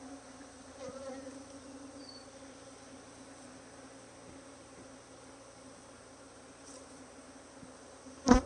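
Honey bees buzz steadily around an agitated hive, a continuous low drone of many insects at close range, with a sharp bump near the end.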